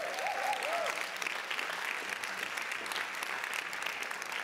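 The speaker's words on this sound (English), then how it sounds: "Can we give a huge big round of applause to them" Conference attendees at a closing ceremony break into sustained applause, dense and steady clapping throughout, with a brief whoop or cheer from the crowd near the start.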